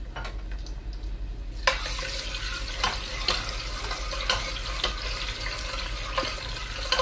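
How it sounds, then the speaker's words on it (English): Onion frying in oil for egusi soup sizzles steadily while being stirred, with repeated scraping clacks against the pan after a quieter opening, close and without talk. "So I added my oil, I added my onion,"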